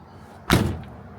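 The door of a 1973 Chevrolet Nova slams shut once, a single solid, close thud with a brief rattling tail and no voices.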